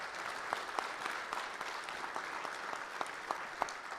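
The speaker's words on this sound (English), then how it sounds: "So please join me in giving them a round of applause." A lecture audience applauds steadily for the speakers on the Missouri River, a dense even wash of clapping at moderate loudness with a few sharper individual claps standing out, no voices.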